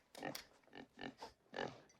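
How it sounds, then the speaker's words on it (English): A pig oinks in a scene from the 1990 film Misery, giving a quick run of short, fairly faint grunts and snorts. "There's a pig!"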